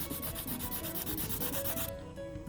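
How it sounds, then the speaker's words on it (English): Sandpaper rubs back and forth over a filled seam on a 3D printed prop, a steady, close, rhythmic scratching with no talk, easing off near the end. "it'll still look a little bit wet, but you sand that back again"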